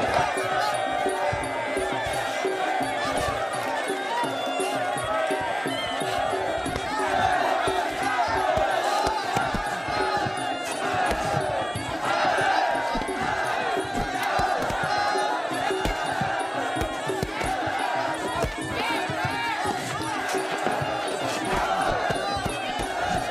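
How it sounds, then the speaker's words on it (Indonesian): Prison inmates in Thailand yelling and cheering around a boxing ring, a dense, loud, continuous crowd roar with overlapping shouts. "Sorakan napi lain menggema"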